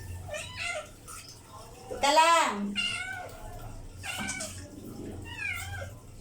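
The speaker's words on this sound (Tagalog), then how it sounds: "may nagpapaligo ako ng pusa eh" A cat being bathed with shampoo meows loudly and repeatedly, with one long drawn-out wail in the middle, while someone talks to it close by.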